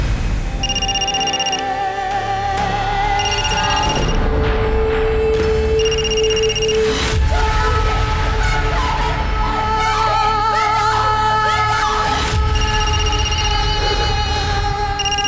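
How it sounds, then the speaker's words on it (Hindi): A telephone bell rings in repeated bursts across a tense Hindi crime drama scene, loud and insistent over dramatic background music, with no one answering. "देख क्यों नहीं रही किसका फोन है? कब से बजे जा रहा है, उठाना।"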